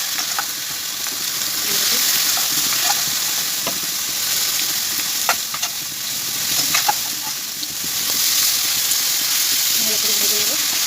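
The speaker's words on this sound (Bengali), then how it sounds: "দিয়ে দেবো এখানে ইলিশ মাছের তেল, কানকো" Hilsa fish fat, gills and roe fry in hot oil with panch phoron, giving a steady, loud, close sizzle with scattered sharp crackles and spits throughout.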